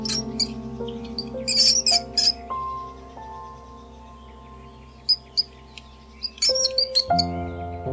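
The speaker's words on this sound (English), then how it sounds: "Mouse." A mouse gives several high, thin squeaks and chirps in short clusters, some spaced apart and a few bunched together. They sit over a soft, steady tonal background and are moderately loud and close.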